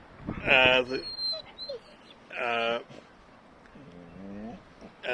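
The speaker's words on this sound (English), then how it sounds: "just a very yappy dog" A small, very yappy dog lets out a few sharp, high yelps in short, separate bursts against a quiet indoor background.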